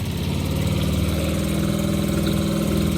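Dinghy outboard engine running at full throttle in gear, a loud continuous droning hum with a steady low throb, close and alone.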